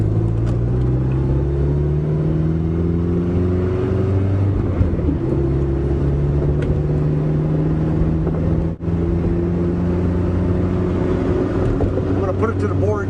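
A carbureted car engine driving around the block, a loud close rumble whose pitch climbs and falls as it accelerates through the gears, with a brief drop partway through.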